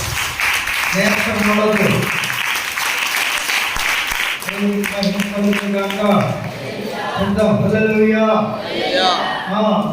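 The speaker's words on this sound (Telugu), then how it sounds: "చప్పట్లు కొట్టండి." A church congregation at a Good Friday service claps hands in loud, dense bursts, with a voice preaching and singing over and between them.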